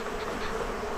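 Honey bees swarm around an open beehive during a brood inspection, making a dense, continuous buzzing hum that stays close and steady throughout, with no talking.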